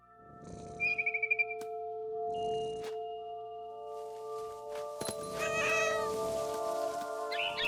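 A cat in the video game What Remains of Edith Finch gives a quick trilled meow, followed by a second call and then rustling game ambience with a low background hum.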